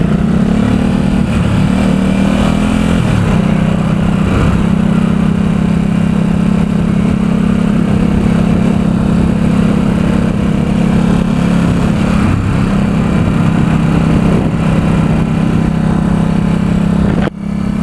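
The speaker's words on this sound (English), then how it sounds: "A lot of torque in this engine. Rip it." A 2017 Ducati Supersport S engine pulls hard on a test ride in San Francisco, a loud, continuous near drone with steady wind rush and no voices.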